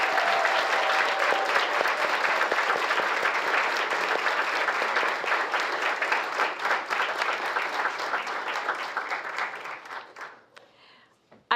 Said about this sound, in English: Could we have one more round of applause for all of our honors program students?